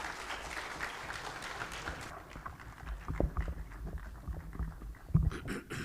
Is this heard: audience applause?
yes